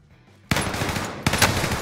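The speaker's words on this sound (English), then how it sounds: "I shot the tank!" Rapid bursts of automatic gunfire fired at a tank in the video game Warzone Pacific, loud and dense, with a second burst starting a moment after the first.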